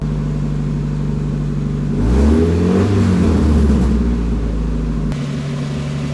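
A car engine idling steadily with a deep, even hum, briefly revving up and settling back down, heard close and alone.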